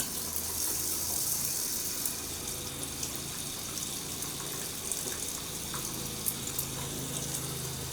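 Hot water flowing from a camper's kitchen faucet during winterization, a steady splashing rush into the sink with a faint low pump drone underneath, close and continuous.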